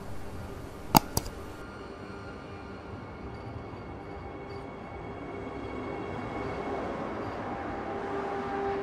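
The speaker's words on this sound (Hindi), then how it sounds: "ये दिल्ली के लिए रवाना वंदे भारत एक्सप्रेस" The Vande Bharat Express pulls out of Bhopal bound for Delhi, a low steady rumble of rolling wagons that slowly grows louder, preceded near the start by a brief sharp clank or horn-like burst.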